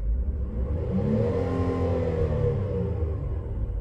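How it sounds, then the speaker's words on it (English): A 2007 Hyundai Sonata 3.3 engine revs up steadily and strongly, its pitch rising then easing back over a continuous close, loud rumble with no talking. "Now I'm gonna rev it up so you can hear it."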